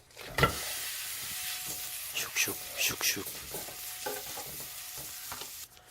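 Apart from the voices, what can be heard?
beef frying in sesame oil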